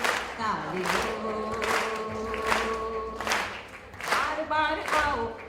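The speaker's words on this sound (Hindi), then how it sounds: "ताली हो, ताली हो।" An audience at a yoga centre's annual programme claps along in rhythmic bursts, hands striking in repeated clusters over a continuous tonal backdrop of music or chanting.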